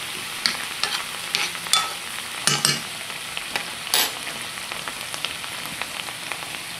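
Vegetables fry in butter spray with a steady sizzle while a spoon stirs them, adding irregular scraping clatters and taps against the pan, loud and close, with no talking.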